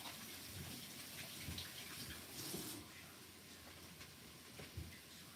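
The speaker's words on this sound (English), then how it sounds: "I'm going to wash my hands because I don't want any more onions" Water from a tap runs steadily at a low level for several seconds as hands are washed under it in a home kitchen, with a soft continuous hiss and occasional splashes.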